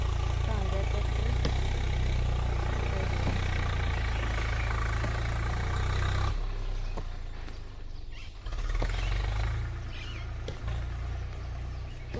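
A tractor engine rumbles steadily in a farm field in Himachal, loud and close with a deep low drone. Voices can be heard faintly over it.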